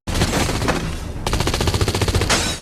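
Rapid rifle gunfire from a film action scene, loud and close, with two sustained bursts of rattling automatic shots separated by a brief pause.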